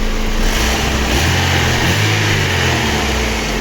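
A Daewoo Lanos 1.5 engine idles after a cylinder head repair, a steady close-up hum with even rhythm and an airy hiss on top, loud and alone.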